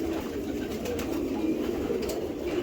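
Young racing pigeons cooing in a loft, soft low coos repeating steadily through a constant background hum.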